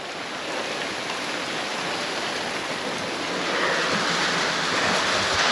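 Heavy rain pours down in a dense, continuous hiss, steady and loud with no voices.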